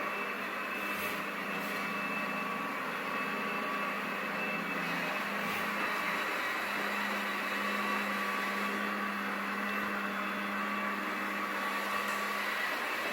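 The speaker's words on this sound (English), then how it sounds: "this smart vac, it picks up a lot of things that you did not know was on the floor" An Ecovacs Deebot Ozmo 920 Wi-Fi robot vacuum cleaning a dirty bathroom floor gives a continuous steady motor whir with a faint hum and whine throughout, close and unbroken, with no talking.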